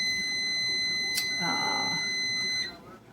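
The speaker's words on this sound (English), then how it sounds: "And my timer just went off." A kitchen timer goes off while goulash rests, giving a steady high electronic beeping tone that runs for about two and a half seconds and then stops, with faint kitchen noise and a brief click underneath.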